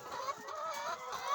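Caged chickens cluck softly, several short, faint calls overlapping in quick succession in the background.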